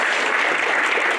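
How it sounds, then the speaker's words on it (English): Audience at a West Wing fan weekend closing ceremony breaks into steady, dense applause, a continuous wash of many hands clapping close by. "You can clap,"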